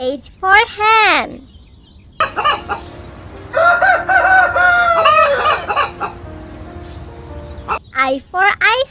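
A rooster crows loudly and hens cluck busily in a farmyard mix, with a long crow in the middle and quick clucks at both ends, fairly close and clear.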